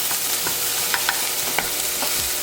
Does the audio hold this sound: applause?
no